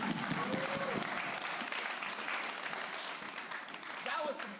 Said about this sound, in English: So give me a round of applause.